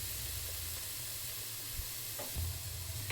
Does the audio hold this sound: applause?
no